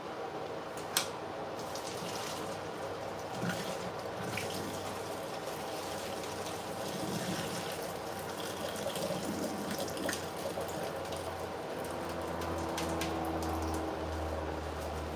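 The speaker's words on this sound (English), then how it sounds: "Put your fork, hold the pasta back, and pour it." Pasta cooking water pours out of a pot while a fork holds the noodles back, a steady rushing splash of liquid running into a sink for the whole stretch, moderately close and without talk.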